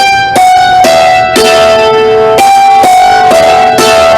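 A hammered dulcimer rings out a slow melody in a roadshow class, with roughly eight bright struck notes that each shimmer and decay into the next, loud and close with no talking.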